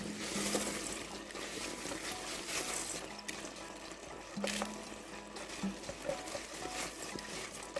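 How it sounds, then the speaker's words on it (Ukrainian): Washed rice goes into a pan of caramelized apples for a sweet plov, giving a quiet, continuous wet hiss and soft patter with a few small clunks. "Тепер додаємо сюди. У мене 350 грам промитого рису."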